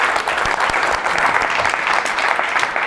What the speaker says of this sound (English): Let's give Sebastian a round of applause.